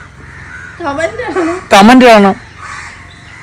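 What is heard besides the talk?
crows cawing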